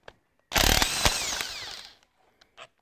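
A metal tool rasps and grinds for about a second and a half while working a stuck nut loose on a Ferguson TEA20 tractor cylinder head, bracketed by a few sharp clicks and taps, close and loud.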